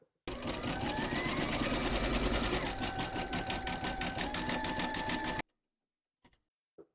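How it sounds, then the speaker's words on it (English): An embroidery machine satin stitches a border: a fast, steady mechanical whir with rapid rhythmic needle ticking runs loud for about five seconds, then stops, leaving a few faint clicks. "Load your matching bobbin and thread colour for the satin stitching around the border into your machine, and then stitch round number 4"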